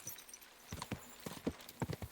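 Horse hooves clip-clopping in Kingdom Come: Deliverance II, a string of separate thuds in uneven pairs, fairly close and moderate in level, with no talking.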